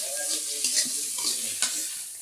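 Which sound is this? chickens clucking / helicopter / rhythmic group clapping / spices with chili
spices with chili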